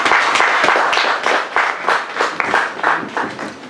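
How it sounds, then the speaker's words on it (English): Hands clap in a close, loud burst from an audience at an anniversary event. Individual claps stand out in an uneven rhythm over a brief ripple of applause. "Please have a clap for them."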